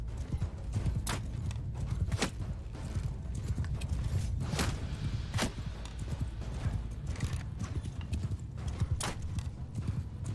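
Cavalry thunders through a medieval battle in Mount & Blade 2 Bannerlord, including horse archers. Dense, continuous hoofbeats clatter close and loud, with sharp individual hoof strikes standing out and a possible brief whinny.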